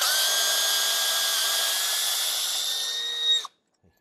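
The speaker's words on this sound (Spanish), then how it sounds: "Tengo aquí el Bosch, velocidad 2, torque máximo, con el angular" A Bosch multifunction screwdriver with a brushed carbon-brush motor, on speed 2 at maximum torque with an angle attachment, whines loudly and steadily for about three and a half seconds before cutting off abruptly.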